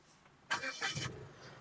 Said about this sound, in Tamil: நான் வண்டியை ஸ்டார்ட் பண்ணுறேன்